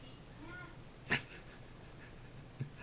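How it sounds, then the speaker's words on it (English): A single short, faint cat meow rises once, followed later by a tiny soft sound, against quiet room noise. "Cat."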